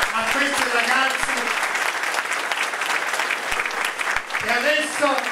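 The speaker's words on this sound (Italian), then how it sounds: "E ora facciamo un altro applauso di incoraggiamento a questi ragazzi" A crowd at a local election list presentation applauds in encouragement, a steady, full round of clapping sustained throughout, with a voice speaking over it in places.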